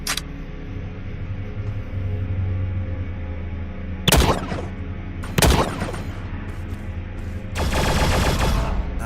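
Gunfire from the open-world shooter The Signal From Tölva: over a low droning background, two sharp single shots ring out a second apart, then a sustained burst of rapid fire follows.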